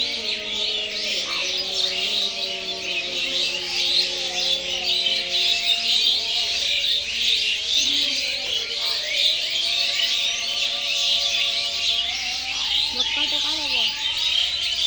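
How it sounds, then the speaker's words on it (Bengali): Many small birds, mostly sparrows, chirping and twittering together in a riverside garden, a dense, continuous chorus of overlapping calls at moderate distance, with no talk. "সব পাখিরই ডাক শোনা যাচ্ছে, কিচিরমিচির ডাক এই বাগানের মধ্যে খুবই সুন্দর লাগছে।"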